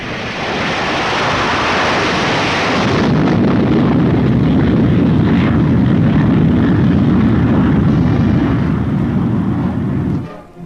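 A B-47 Stratojet jet bomber in flight gives a loud, continuous roaring rush, hissing brightly at first, then a deeper sustained rumble before cutting off abruptly near the end.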